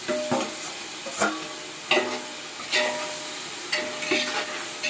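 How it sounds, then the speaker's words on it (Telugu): Vegetables for capsicum veg rice fry in a pan, a steady sizzle broken by four or five louder scraping stirs at a slow, even pace, close and clear with no talking. "బాగా వేగుతూ ఉన్నాయి"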